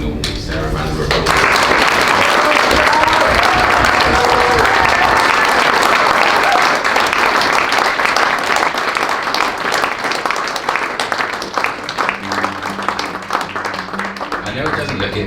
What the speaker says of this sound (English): I think we can all give Sarah a round of applause.